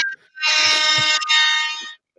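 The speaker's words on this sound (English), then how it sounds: "Oh, air horn" A single loud air horn blast, bright and brassy, holds for about a second and a half after a brief tone.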